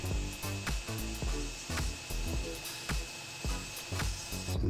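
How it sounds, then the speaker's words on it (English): Cleaning off the cut end of a breather pipe, a repeated rhythmic scraping and rubbing stroke close up, several even passes with brief pauses between them. "So I just want to clean off the end of that."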